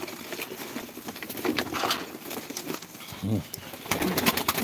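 Sivas tumbler pigeons coo softly in a loft setting, with brief low cooing bursts and wing flutters over steady background murmur and scattered people talking nearby.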